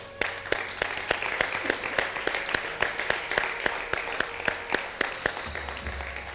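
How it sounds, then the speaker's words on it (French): Rhythmic, evenly spaced clapping on a French-language cooking competition show as a contestant is eliminated, steady beats repeating for several seconds over a faint background hum. "on t'applaudit très fort"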